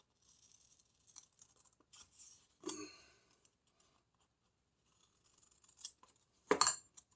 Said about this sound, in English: Grab some scissors. Cut this sucker out.